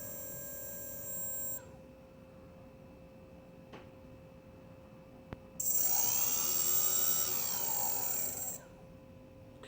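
A quadcopter's clockwise motor 1, suspected faulty, spins up in two bursts of high-pitched whine, a short one first and then a longer, louder run of about three seconds, with faint clicks and near silence between them.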